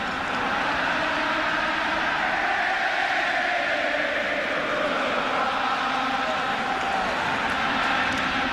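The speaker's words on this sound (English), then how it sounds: "This crowd serenading the Seattle Mariners" A large baseball stadium crowd serenades the Seattle Mariners during a 2001 ALCS game, a dense, steady roar of many voices sustained throughout without clear breaks.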